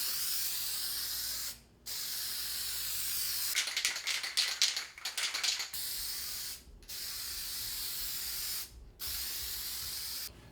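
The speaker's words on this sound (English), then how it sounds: "It's a spray-on lacquer, satin finish, works great, very easy, extremely durable." Permalac satin lacquer hisses from a spray can in several long bursts separated by short pauses, with a rattling, clicking stretch in the middle, close and fairly loud.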